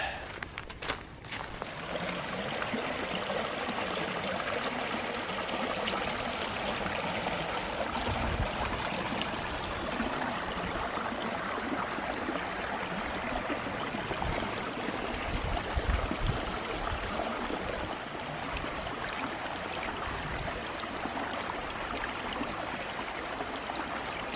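A woodland stream flows steadily beside a hiking trail, a constant broad rushing wash with faint footsteps on the path now and then.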